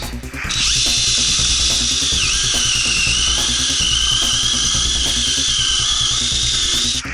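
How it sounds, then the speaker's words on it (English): A battery power drill bores through wood during an HVAC installation, a loud, steady high whine that runs unbroken for about seven seconds, near and alone. "the battery died while I was drilling"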